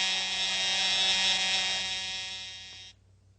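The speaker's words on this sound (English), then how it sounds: "there's the buzzer ending the first period." An ice hockey arena buzzer sounds to end the first period, a loud sustained electronic tone held for nearly three seconds before stopping abruptly, with no talk over it.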